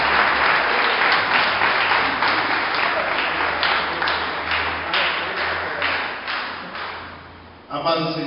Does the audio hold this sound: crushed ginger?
no